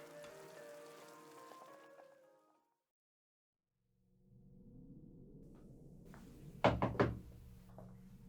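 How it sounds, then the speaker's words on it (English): Knocking on a door in a radio drama, a quick cluster of firm wooden raps, close and clear, after a stretch of faint background sound and a short silence. "No need to knock."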